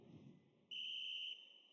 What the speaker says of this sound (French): premier coup de sifflet pour ce jeu